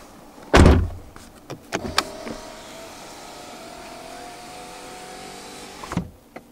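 A panel on a 2014 Ford Mustang V6 thuds shut with one solid close impact, followed by a few small clicks, a faint electric motor whine and a softer final knock, without talk.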